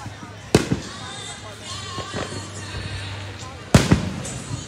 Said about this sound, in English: Must be another firework show going on over there.